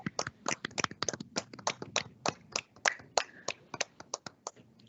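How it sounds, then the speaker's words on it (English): A small group of meeting attendees claps in a sparse, uneven patter of sharp, distinct hand claps, close and fairly quiet, thinning out toward the end. "let's give them a round of applause."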